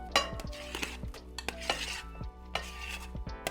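Red velvet cake being scooped onto cream cheese in a bowl, with repeated scraping and light clinks of a utensil against the bowl in an irregular rhythm, close and fairly quiet with no talk.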